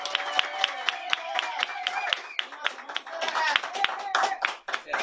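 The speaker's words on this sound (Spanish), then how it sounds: "démosle un fuerte aplauso" An audience breaks into strong applause for performer Samuel Lizárraga, many hands clapping in a dense, lively patter with a few sharp individual claps standing out, crowd voices mixed in and rising near the end.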